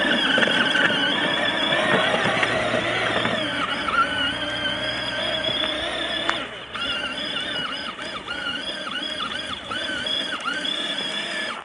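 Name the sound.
Peg Perego Polaris Sportsman 400 ride-on toy ATV in second gear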